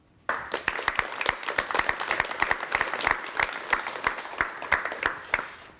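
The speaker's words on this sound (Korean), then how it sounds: "여러분 최태환 선생을 박수로 맞이해 주시면 대단히 고맙겠습니다" A Korean television studio audience in 1990 breaks into sustained applause to welcome a guest, a dense, steady patter of many hands clapping that starts abruptly and continues evenly throughout.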